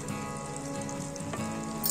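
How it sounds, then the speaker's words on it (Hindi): Mango pieces fry in a pan over a medium-high flame for khatta meetha aam achar, making a soft, even sizzle that holds steady for a couple of seconds without speech. "अब हम आम डाल देते हैं मीडियम हाई फ्लेम में, इसे हम थोड़ा भून लेते हैं।"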